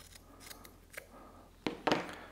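Scissors snipping through a FlexTube cable sheath, a few close crisp cuts with faint handling rustle before two louder snips near the end.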